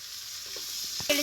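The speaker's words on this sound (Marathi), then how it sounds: "सगळा मसाला चांगला आपला परतलाय" Spices for masala rice sizzle steadily in a hot pan, with a few soft stirring clinks toward the end.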